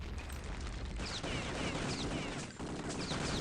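Rapid pistol shots in Return to Castle Wolfenstein during a 3on3 match, a steady run of sharp cracks over a busy background of game sounds.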